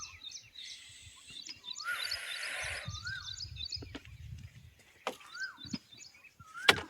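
An Asian koel calls repeatedly near a custard apple orchard on a hot day, its rising whistled notes clear against a quiet background, with other small birds chirping and a few brief knocks.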